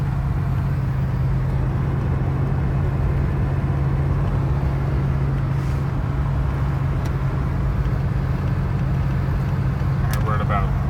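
Steady, loud cabin drone of a 1978 Mercury Cougar XR7 cruising at about 60 mph on a freeway, with a constant low engine hum and road rumble throughout and someone talking over it.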